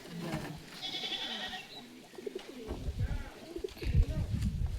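Large domestic pigeons at a friend's home loft coo in soft, throaty rolls close by, while a person talks over them and some bleating livestock can be heard in the background.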